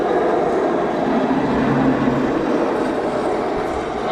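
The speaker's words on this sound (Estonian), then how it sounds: "See oligi meie rong." A train passes at close range with a continuous loud rumbling roar and rail noise that holds steady throughout, with no voices over it.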